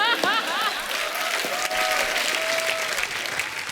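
A studio audience of about 500 people claps at a televised comedy show, continuous dense applause with a voice and a faint tone running through it.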